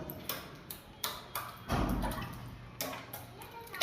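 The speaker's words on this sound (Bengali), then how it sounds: "এই জয়েন্টে ব্রাশ জল মেরে এভাবে আমাদেরকে জল মারতে হয়।" A brush flicks water onto a wall joint ahead of puttying, giving a series of short wet slaps and spatters at irregular intervals, with one longer splashy burst in the middle, fairly quiet overall.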